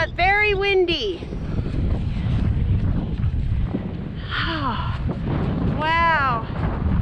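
Strong wind buffets the microphone with a constant low roar on the exposed summit of Goose Rock on Whidbey Island at Deception Pass, while a person talks over it.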